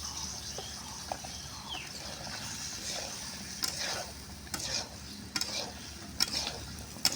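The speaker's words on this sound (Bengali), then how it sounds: "দিয়ে এটা মশলার সাথে এটা কষে নিব।" Okra and potatoes fry in oil-rich spice masala, a soft steady sizzle broken by scattered clicks and scrapes of a spatula stirring against the pan.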